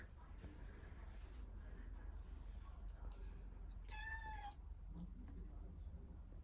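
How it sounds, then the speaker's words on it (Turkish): A cat meows once, a clear, rising-falling call heard near the middle, close but fairly quiet over a low background hum. "keşke böyle miyavlayan bir kedim olsa"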